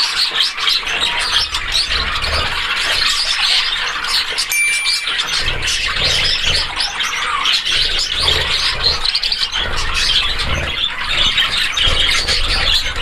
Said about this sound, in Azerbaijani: Göstereyim kuşları yakından sizlere.